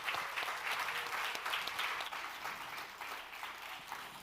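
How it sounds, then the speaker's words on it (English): Conference audience giving panelists a round of applause, steady mid-level clapping from a room of people throughout, without talk. "let's give them another round of applause"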